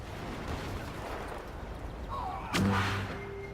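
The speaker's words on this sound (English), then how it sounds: "And Blaster Cannon in action again." A blaster cannon fires in a competitive team match of a shooter video game, a single loud booming blast with a ringing tail that breaks through steady background rumble and noise partway through.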